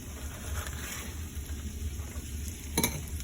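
Pancetta for a breakfast omelette sizzling steadily in a hot pan, a soft continuous crackle with light stirring scrapes and a sharper clatter near the end.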